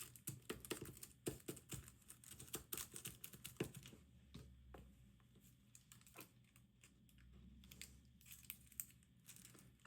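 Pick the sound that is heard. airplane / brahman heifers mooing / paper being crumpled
paper being crumpled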